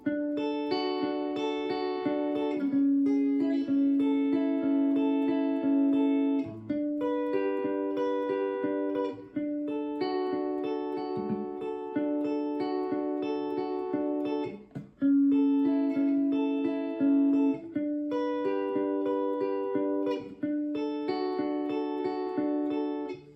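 Clean guitar strums a sequence of major and minor triad chord inversions, each ringing for a beat or two in a steady rhythm, close and fairly loud with no voices.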